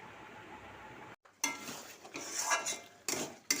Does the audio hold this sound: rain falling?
no